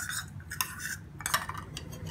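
A spoon stirs a small mix of milk and apple cider vinegar for a homemade toner, giving light clinking and scraping strokes against a bowl, close and fairly quiet, with no talk.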